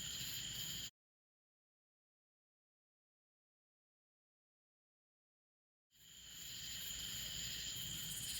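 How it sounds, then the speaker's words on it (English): Steady high-pitched insect chirring fills the air, cutting out to near silence for several seconds before the dense chorus fades back in. "I can hear the crickets."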